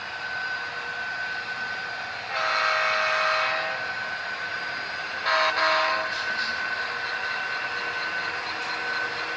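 Santa Fe blue-and-yellow model railroad train headed through a layout yard, its horn sounding in two loud blasts over a steady running hum.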